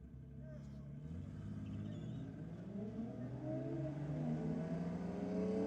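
Two Ford Falcon drag cars launching off the start line at a Sydney drag night, engines rising in a building roar heard from a distance while a commentator talks over it.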